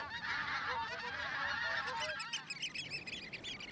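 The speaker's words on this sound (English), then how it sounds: "waders and wildfowl flock here in astonishing numbers" Wintering wildfowl on the Dee Estuary, with geese honking continuously in a dense, overlapping chorus of calls, loud and fairly close, no voices.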